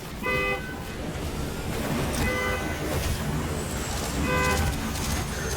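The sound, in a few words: Waymo self-driving cars honking at each other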